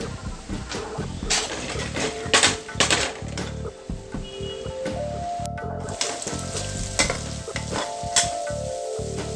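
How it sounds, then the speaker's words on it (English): Onion stir-frying in hot oil in a pan for a bitter melon and beef dish, a loud, close, continuous sizzle with repeated stirring and scraping of a utensil against the pan and no talking. "so add a little bit more oil and I'll cook my onions"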